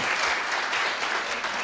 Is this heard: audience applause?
yes